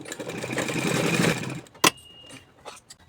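A sewing machine runs a short burst of stitching on a kurti seam, a dense whirring chatter for about a second and a half, followed by a sharp click and faint handling noises.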